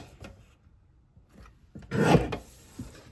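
Paper strips for a card kit trimmed on a rotary paper trimmer: a couple of faint rasping strokes, then one louder, longer rasping slide near the end.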